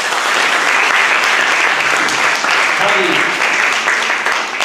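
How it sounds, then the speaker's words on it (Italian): An audience at an Italian round table on economics in Poggiardo gives loud, sustained applause filling the room, with a brief spoken word heard under the clapping. "rivolgiamo l'ennesimo applauso"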